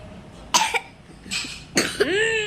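A child coughs three times in quick succession, close and sharp, with a brief breathy pause between bursts and a throat-clearing tail.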